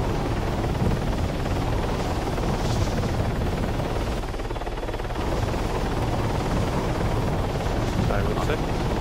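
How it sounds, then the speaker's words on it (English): A helicopter in the military game Arma 3 roars steadily with a broad, dense rotor and engine wash, loud and close throughout with only a brief dip midway. "Oh, enter that chopper."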